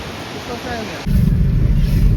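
Heavy rushing roar of the Barachukki Gaganachukki waterfall at Shivanasamudra near Mysore, swelling suddenly to a loud, steady low rumble after a quieter first second, with faint wind noise at the microphone.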